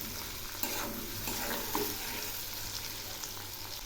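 Okra frying with potatoes and onions in a pan, a steady close sizzle with occasional stirring scrapes and no talking.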